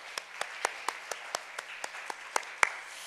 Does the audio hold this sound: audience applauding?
yes